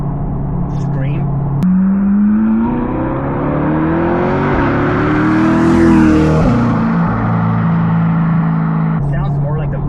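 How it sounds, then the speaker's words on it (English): A C8 Corvette with a catback exhaust revs high and hard, climbing to a shrill scream around the middle, then dropping back to a steady idle-like drone. "It's got that high-pitched screech to it."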